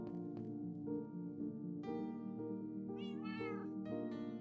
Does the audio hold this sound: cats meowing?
yes